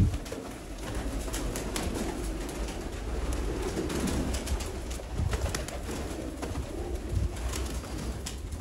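Red-eyed breeder pigeons cooing steadily in a loft, soft low coos repeating over a constant rustling background, no voices.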